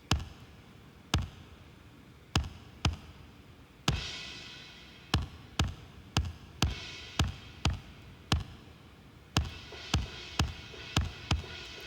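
Kick drum processed with compression and EQ for a mid-range focus, punching in a steady pattern of single and paired hits with short decays, clear and isolated with no other instruments or voices.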